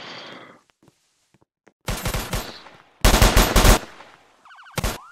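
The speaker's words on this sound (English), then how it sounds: "he shot through the windows" Rapid bursts of gunfire in Roblox, a criminal shooting through the windows of a gem store: two loud clusters of rapid shots, the second denser and heavier, with a brief lighter burst near the end and no talking.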